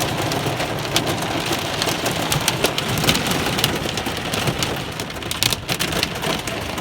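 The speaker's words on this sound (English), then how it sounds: "Oh, my God. More hail." Hail and rain pelt a car hood during a major thunderstorm, a dense, steady hiss of drumming drops with sharper ticks of hailstones scattered throughout, close and continuous.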